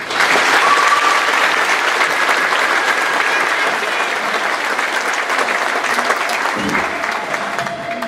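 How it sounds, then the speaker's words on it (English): A large crowd at a high school graduation ceremony applauds loudly and continuously, a thick wash of clapping with a few cheers mixed in throughout. "Let's once again do a round of applause."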